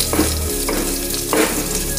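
Garlic sizzles and crackles in hot oil, the tempering for a sweet-and-sour horse gram (kulthi) dal, with a steady close frying hiss marked by a few brief louder bursts as it is stirred.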